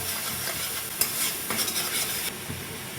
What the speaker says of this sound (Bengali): আমি হালকা একটু জল দিয়ে কষিয়ে নিচ্ছি